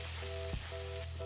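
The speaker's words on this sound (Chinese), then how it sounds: "1勺辣椒面，然后浇上烧好的热油" Hot oil is poured over chili flakes and white sesame seeds in a bowl, producing a brief, steady sizzle close by over a low electrical hum, without any talking.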